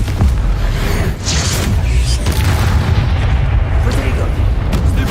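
A Confringo blasting spell in Hogwarts Legacy erupts into a loud, booming explosion with a heavy rumbling low end that sustains throughout, with voices heard amid the blast.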